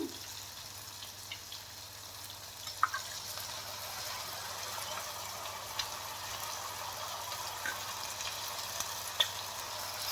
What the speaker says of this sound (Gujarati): અને ફરી પાછું બટેટા અને ચોરીને બંનેને સાતડશું થોડીક વાર આમને તેલમાં આવી રીતે સાતરવાના છે